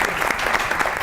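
An audience applauds at a comedy show, a dense, steady burst of clapping from many hands that lasts about a second.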